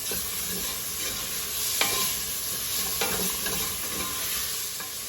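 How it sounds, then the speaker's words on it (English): Chopped garlic, about three cloves, sizzles steadily in a pot for a tortellini soup, a continuous close frying hiss with a few brief scraping stirs and no talk. "Now to this, we're going to add about 3 cloves of chopped garlic. And we'll let this cook for about a minute."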